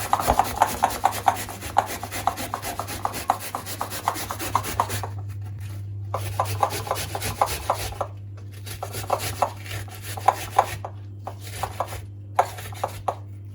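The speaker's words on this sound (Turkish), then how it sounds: "soğanımızı rendeleyelim." An onion is rubbed against a metal grater in quick rasping strokes, close and fairly loud. Bursts of steady rhythmic scraping are separated by brief pauses.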